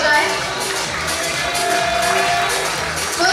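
Audience applause at a CWC Foundation Day 2020 award ceremony for a badminton prize, a dense steady wash of clapping that holds at a constant loud level throughout, with crowd noise mixed in.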